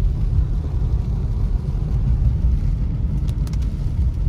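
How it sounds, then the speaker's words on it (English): Road traffic rumbles through a mountain town in Big Bear, California, at the onset of a winter storm, a steady low drone of engines and tyres, close and fairly loud, without speech. "there's a lot of traffic in town right now"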